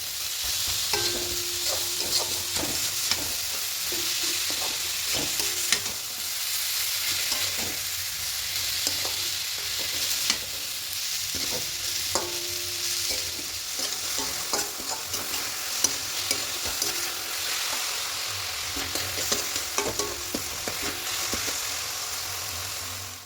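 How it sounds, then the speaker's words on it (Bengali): A spatula scrapes and stirs a thick grated coconut filling in a frying pan, with a gentle sizzle and steady, irregular scraping strokes and no talking. "নারকেল কুড়াটা দিয়ে দেবো এবার দিয়ে খুব ভালো করে মিশিয়ে নেবো"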